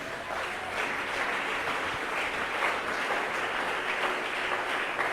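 Church congregation applauding at a Spanish-language Christian service, a steady dense wash of clapping filling the room for about five seconds without speech.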